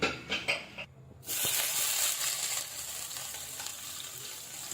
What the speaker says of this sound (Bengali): প্রথমে পনিরের পিসগুলোকে ভেজে নিতে হবে।